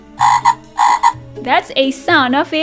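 A frog croaks twice in quick succession, each a loud, buzzy call over a low droning tone, and then a voice begins speaking.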